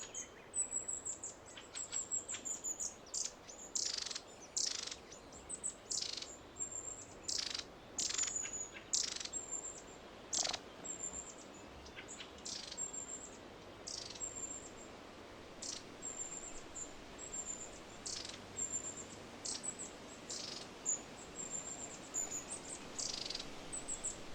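Young birds that still depend on their parents chirp and tweet in surrounding vegetation. Thin, high chirps repeat in quick, irregular bursts throughout, faint and fairly distant against a quiet background.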